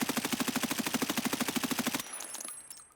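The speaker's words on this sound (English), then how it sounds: "So we'll start with the M4. We'll put it on full auto." An M4 rifle fires on full auto in Escape from Tarkov, a fast, even burst of about twenty loud, close shots lasting two seconds, then a ringing tail fades out.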